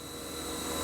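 A Haas VF-3B vertical machining centre from 2008 runs its spindle at 6,000 RPM, giving a steady, close, even mechanical whine with a high tonal hum that swells slightly toward the end and has no voices.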